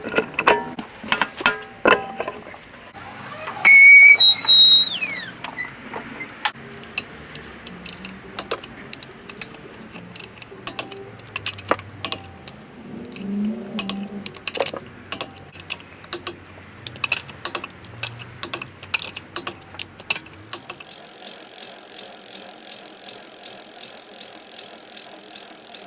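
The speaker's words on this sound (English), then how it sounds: "Now I'm going to put on the wheels and then move on to the back." Wheels mounted back onto a W212 Mercedes-Benz E63 AMG during a suspension lowering job bring a string of sharp metallic clicks and ratcheting taps, with a short whirring burst early on and a steady hum toward the end.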